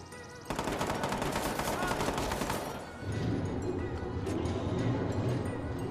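Rapid automatic gunfire rattles loudly in Watch Dogs 2, a dense burst lasting a couple of seconds before giving way to a rumbling, chaotic backdrop with a few scattered impacts.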